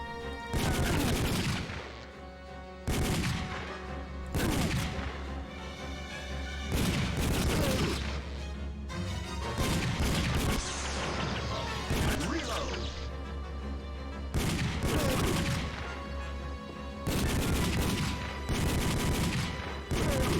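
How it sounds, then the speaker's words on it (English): Rapid gunfire in the Time Crisis arcade shooting game, with repeated bursts of loud shots and crashing impacts spread across the stretch, separated by short gaps. "I'm gonna shoot like a madman."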